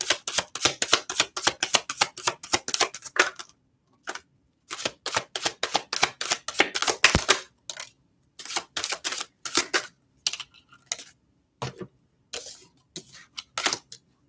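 Tarot cards shuffled by hand during a live reading, heard as close, sharp bursts of rapid clicking riffles separated by short silences, with no talking.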